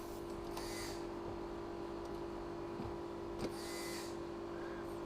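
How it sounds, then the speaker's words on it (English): Electric brake vacuum pump in an EV-converted BMW Z3 hums steadily at low volume, a constant mechanical whir with a faint tonal drone throughout, no talk over it. "it recharges the vacuum as soon as I'm using it."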